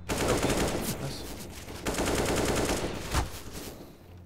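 Rapid automatic gunfire in a CS:GO match on the Inferno map rattles almost nonstop in dense bursts, with a few sharper single shots standing out, loud and close.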